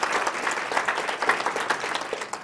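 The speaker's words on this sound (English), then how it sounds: "So please give Robert a warm round of applause." Audience at a Genealogy Day session applauding a presenter, a steady round of many hands clapping that stays fairly even and close throughout, with no voices over it.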